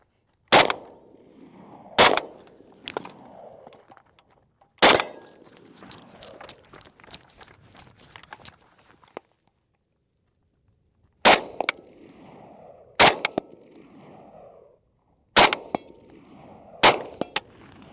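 Steyr AUG rifle firing at steel targets: sharp loud cracks, each followed by a metallic ring, in spaced groups with quiet gaps and faint handling noise between shots.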